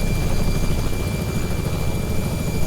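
Robinson R66 turbine helicopter in flight, a steady, loud rotor and turbine drone with low chopping pulses and a faint high whine, continuous and close throughout.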